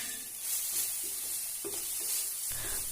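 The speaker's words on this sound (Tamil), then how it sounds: "பச்சை வாசம் போகிற அளவுக்கு வதக்கி விட்டுட்டு ஸ்டவ் ஆஃப் பண்ணி வச்சிடலாம்." Onion and spice masala for egg dosa sizzles and sautés in a pan, a soft continuous hiss with occasional scraping stirs, moderately close and fairly quiet, without speech.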